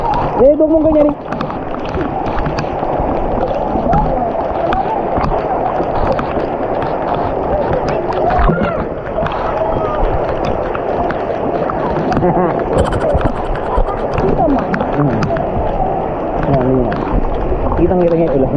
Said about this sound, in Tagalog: ang lakas ngayon ng ulan